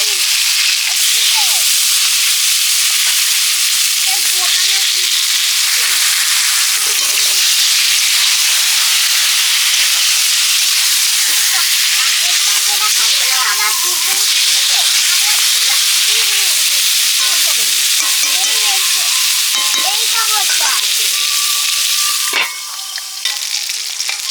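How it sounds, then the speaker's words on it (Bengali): Brinjal slices fry in hot oil in a home kitchen, a loud continuous close sizzle and hiss with crackling bursts, and occasional soft scrapes of a spatula, running steadily with no pause. "প্রথমে বেগুনগুলো ভেজে নিচ্ছি"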